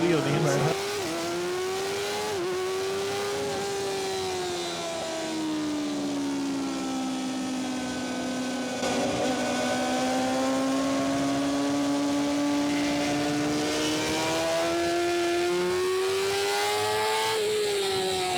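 At a CVMA amateur super sport middleweight race, motorcycles roar off the start line, the near engine revving hard through upshifts, a loud, sustained high-pitched howl with other bikes around it.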